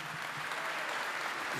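At a 2012 APF Entreprises gala evening, the audience claps to welcome the president of the Association des paralysés de France, giving an even, moderately quiet wash of applause throughout.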